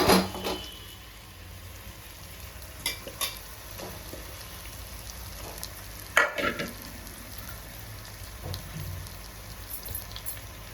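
Salted, chili-coated fish pieces hit hot masala oil in a pan, giving a steady close sizzle broken by a few sharp clatters and stirring knocks, with no talking.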